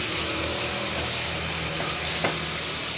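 Chicken and garlic seasoned with plenty of black pepper sizzle steadily in a pan. The loud, even frying hiss holds throughout, with a faint scrape of stirring partway through.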